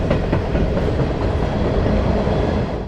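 A Norfolk Southern coal freight train rolls past close by, its wagons making a loud, continuous rumble with rhythmic wheel clatter that eases slightly at the end.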